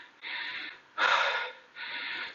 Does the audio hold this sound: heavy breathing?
yes